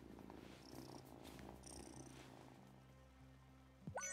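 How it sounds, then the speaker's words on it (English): A cat purring in the farming game Wylde Flowers, a soft, steady low rumble with faint chimes of game music layered over it and a short brighter sound effect near the end, with no talking. "let's go say hello to Kitty Cat"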